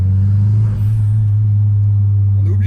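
A car with a loud blow-off (dump) valve idles with a deep, heavy engine rumble close by, then a rising note at the end as it begins to rev.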